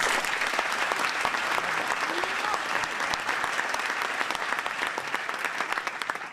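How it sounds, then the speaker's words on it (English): Audience applause for Phaedra at a Sacramento talk event, a steady dense clapping that holds at an even, moderate level for the full stretch with no voices rising above it. "Let's give a warm round of applause for Phaedra"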